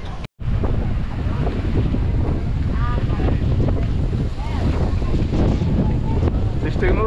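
Strong wind buffets the microphone on Barra da Tijuca beach, a loud continuous roar with surf and rushing air filling the clip after a brief dropout near the start, with no clear talk over it.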